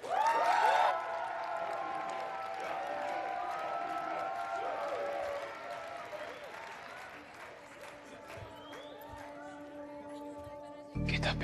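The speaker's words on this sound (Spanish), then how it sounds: "Recibamos con un fuerte aplauso" An audience gives a loud round of applause to welcome someone onto a stage, sustained clapping and crowd noise that fade slowly, with voices talking over it toward the end.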